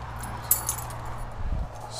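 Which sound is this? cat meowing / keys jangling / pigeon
keys jangling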